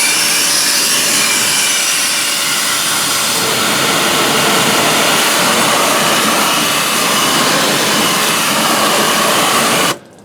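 A high-pressure washer with an adjustable nozzle blasts water into a car's wheel well. The spray makes a loud, continuous hissing roar that shifts slightly in tone and then cuts off abruptly at the end, with no talking.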